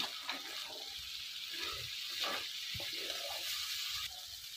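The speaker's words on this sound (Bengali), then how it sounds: "তেল এখন নেড়ে দিই।" Fish frying in oil in a pan as it is stirred, a soft wet sizzle and bubbling with a few scraping stirs, close and fairly quiet, with faint murmured talk in the background.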